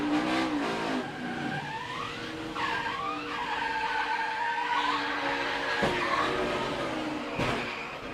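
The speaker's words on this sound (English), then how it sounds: "You heard him playing with the throttle." A 2015 NASCAR Sprint Cup race car heard onboard as the driver blips the throttle, the engine note swooping up and down repeatedly over tire scrubbing, with sharp knocks near the end.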